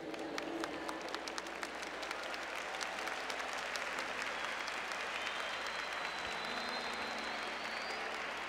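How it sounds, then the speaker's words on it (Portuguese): A church congregation applauding during a worship service: continuous crowd clapping with a constant wash of noise, steady and moderately distant, with some faint tonal sounds underneath. "Está aplaudindo o seu irmão e o céu. Pode aplaudir mais forte."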